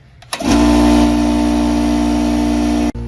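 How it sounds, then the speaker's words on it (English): An air compressor being brought up to pressure for winterizing a sprinkler irrigation system kicks on after a short quiet start, then runs with a loud, steady motor hum and drone close by, cutting out briefly just before the end, with no speech. "While the compressor's warming up"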